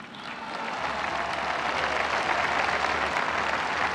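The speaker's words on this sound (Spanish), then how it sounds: "un aplauso" A crowd applauds steadily, a dense wash of clapping that swells slightly and holds for a few seconds.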